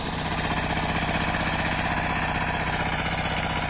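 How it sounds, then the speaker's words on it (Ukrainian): A walk-behind tractor (motoblock) engine runs steadily nearby, a loud, even, rapidly pulsing mechanical chug that holds without a break, with no voices over it. "Там дружбан їде ззаді з мотоблоку"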